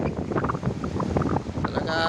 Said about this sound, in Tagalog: Grabe na laki ng alon, no?